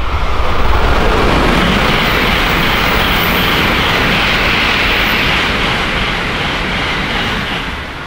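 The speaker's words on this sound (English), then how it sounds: "But now the train's coming." A bullet train rushes past close by with a loud, steady roar and rumble that holds for several seconds, then eases slightly toward the end, on the Hakone to Tokyo line.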